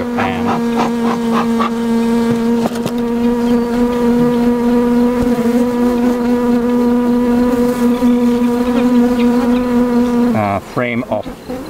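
Honey bees drone loudly and steadily in an open beehive, a dense sustained buzz that holds for several seconds before breaking off near the end.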